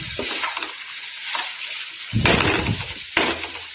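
A cauliflower and tomato curry sizzles steadily in a pan on the stove, with soft stirring scrapes and a couple of louder clatters against the pan.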